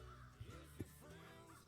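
Crows caw faintly in the distance as ambience in a tabletop game scene. A few hoarse calls come in short clusters over a low, hazy background.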